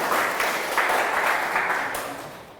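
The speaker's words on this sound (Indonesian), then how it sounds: "Oke, berikan aplaus." An audience claps together in a room, a steady close burst of applause that holds evenly and slowly fades near the end.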